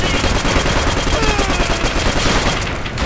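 Machine-gun fire from the Call of Duty: World at War video game, in a World War II assault on Nazi front lines: rapid, loud, continuous bursts of automatic gunfire filling the whole stretch, tapering slightly at the end.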